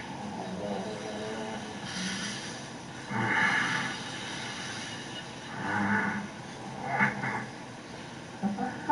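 A cow moos several times at intervals, with fairly near, drawn-out calls rising over a low background hum of an outdoor setting.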